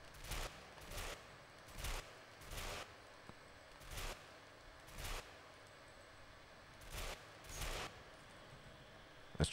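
Weapon firing in burst mode in the game Ghost Recon Phantoms, short bursts of gunfire repeating at roughly even intervals, about a dozen, moderately loud with quiet gaps between.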